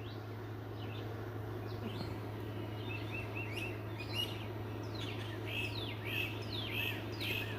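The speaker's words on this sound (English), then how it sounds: "Listen to those birds," Birds chirp and tweet in the distance at sunrise, repeated short calls over a steady low hum.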